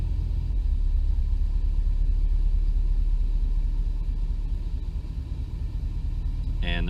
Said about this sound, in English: you can watch as I flip it, the RPMs, they drop down and then they slowly climb back up to 600